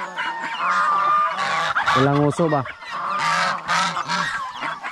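A flock of geese let out of their pen honks loudly and close by, with overlapping bursts of calls, while a person speaks briefly between them.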